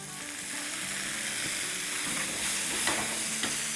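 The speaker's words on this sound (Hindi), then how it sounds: "अब जो है चूल्हे को बिल्कुल स्लो करते हैं और ये सारी कबाब जो है वो इसमें डाल देते हैं" Gola kebabs drop into a hot cast-iron pan on a low flame and sizzle steadily and close up, with light stirring clatter and a soft hiss rising slightly toward the end.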